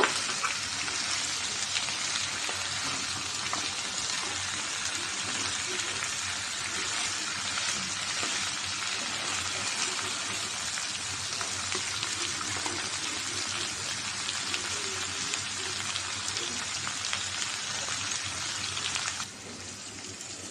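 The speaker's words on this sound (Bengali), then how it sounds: "মাংস আর আলু কষানো হয়ে গেছে আমি এটা এখন ঝোল দিয়ে দিব" Broth poured over mutton and potatoes frying in a pot gives a loud, steady rushing sizzle with a watery hiss. It holds evenly for about nineteen seconds, then drops quieter near the end.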